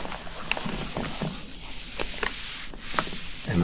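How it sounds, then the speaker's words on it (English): Paper crinkling during an ASMR unboxing of resealed mail, close, soft rustles and scrunches coming in short irregular bursts with quiet gaps between them. "I'm actually liking the ASMR sound of the paper at the crinkles."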